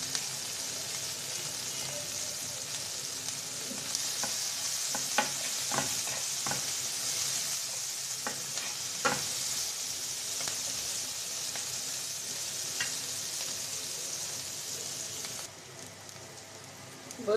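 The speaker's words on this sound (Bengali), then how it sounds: "পেঁয়াজ মরিচটা আমি এইরকম ভেজে নেব, এর থেকে বেশি করব না" Onion and chili sizzle steadily in a frying pan for a Bengali sehri dish. Sharp utensil clicks and scrapes sound now and then over the constant hiss, with no talking.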